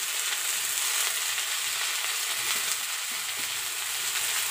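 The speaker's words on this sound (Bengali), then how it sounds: "তো এবার এটা নাড়াচাড়া করে ভেজে নিতে হবে।" Food stirred and fried in a pan, with a steady broadband sizzle holding throughout and faint scraping of the stirring underneath, close and continuous with no talk.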